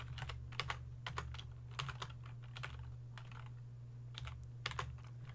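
Someone types code on a computer keyboard, a quiet, close run of quick key clicks in irregular bursts and pauses, over a low steady hum.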